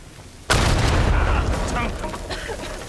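In the video game Uncharted 4, a mummy explodes: a sudden loud blast erupts after a brief quiet moment, followed by a rumbling, crackling roar that slowly fades, with a voice faintly underneath.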